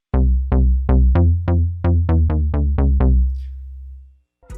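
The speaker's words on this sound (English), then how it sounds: "It's a like plucky bass." A plucky bass one-shot sample is triggered about a dozen times in a brisk, uneven rhythm. Each note is loud with a sharp attack and a quick decay, and the last one rings out before silence.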